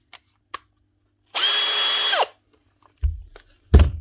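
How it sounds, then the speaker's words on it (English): A power drill set to drill mode runs at low speed during a repair of Makita, Dewalt and Paslode power tools, giving one steady whine of just under a second, followed by a few clicks and handling thumps. "Put it in drill mode."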